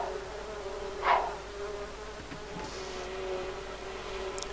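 Bees buzz during a honey harvest in a life-simulation video game, a steady insect drone over a low hum, with one brief louder swell near the start.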